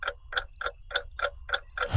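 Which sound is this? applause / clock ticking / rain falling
clock ticking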